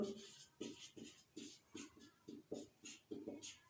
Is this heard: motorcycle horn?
no